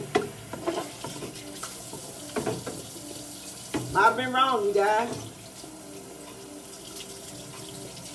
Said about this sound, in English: I'm going to rinse this broccoli off real fast.